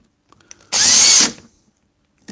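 Power drill boring into metal, a single loud close burst of high whining grind lasting about half a second, with faint handling clicks before and after.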